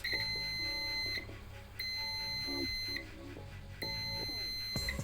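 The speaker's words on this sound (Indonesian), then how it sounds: "Kita arahkan selektor di buzzer." A multimeter set to its continuity buzzer gives a high electronic beep in about four separate bursts, each roughly a second long with short gaps between them. The beeps are clear and close, with no talk.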